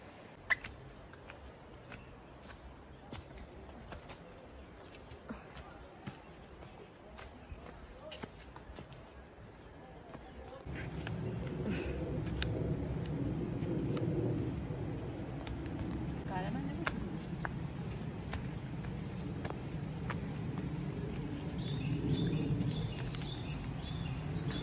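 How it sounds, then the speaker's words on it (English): Birds sing along a forest trail to Leke Leke waterfall, with thin high chirps and trills over a steady insect-like drone, joined partway through by a louder, fuller background of rustling and movement. "We can hear so many birds singing."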